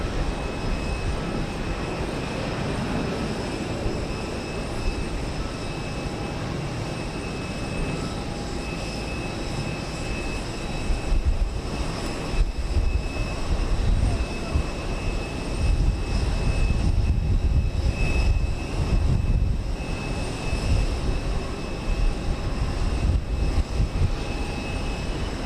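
An airliner departs Houston Intercontinental bound for DFW, its jet engines giving a loud, sustained roar that swells and holds for the whole stretch, with no voices over it.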